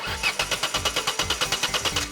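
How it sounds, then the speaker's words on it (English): A toy-like front loader's engine cranks with a rapid, even chug of about a dozen rhythmic turnover pulses, close and clear, with no speech over it. "Time to start the engine."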